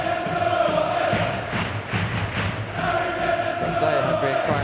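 Home supporters at Portsmouth's ground during an FA Cup quarter-final football match against Arsenal, a loud continuous roar of chanting and singing with one brief dip, a commentator talking over it.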